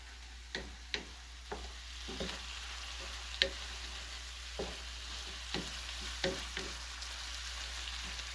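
Food stirred as it fries in a skillet, with flour sprinkled in: a faint background sizzle broken by soft, irregular scraping and tapping strokes.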